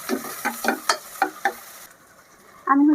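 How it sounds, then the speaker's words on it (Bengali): Chopped onion hits hot oil in a pan, with a run of rhythmic scraping stirs over a soft sizzle, a quiet pause, then a louder burst of frying at the end. "পেঁয়াজটা হালকা ভেজে নেব।"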